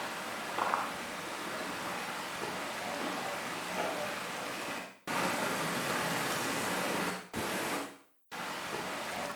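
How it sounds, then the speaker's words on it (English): A waterfall in Germany roars as steady broadband rushing water, close and even, broken twice by abrupt edits into near-silence before resuming. "this first one is this recording of a waterfall I recorded myself in Germany"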